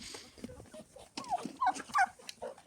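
Domestic turkeys gobble in a farmyard, several rapid burbling calls close by, rising in bursts toward the end, with scattered fowl clucks and rustling around them.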